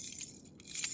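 A bunch of house keys jangles briefly, with bright metallic clinks in two short bursts, close and alone without talk.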